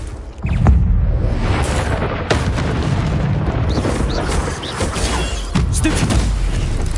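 A Confringo blasting spell goes off in Hogwarts Legacy combat with a loud, close boom, followed by a dense rumbling roar of battle effects and sharp cracks throughout.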